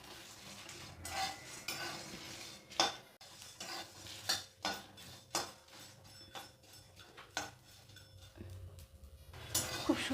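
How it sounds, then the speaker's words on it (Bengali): Homemade biryani masala spices being dry-roasted and stirred in a pan, with repeated scraping and clinking of a metal spoon against the pan in irregular strokes over a faint low sizzle, close and fairly quiet. "খুব ভালোভাবে মশলাটাকে ভেজে নেব"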